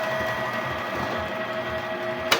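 A Canon G3420 inkjet printer running an ink flush gives off a steady mechanical hum with a faint tonal whine, ending in a brief clack near the close.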